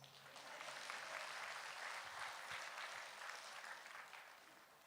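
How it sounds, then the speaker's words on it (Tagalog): Congregation applauding during a Catholic homily, a soft wash of many hands clapping at once, building quickly, holding steady and faint, then tapering slightly with no voices over it. "If you say amen, palakpak tayo."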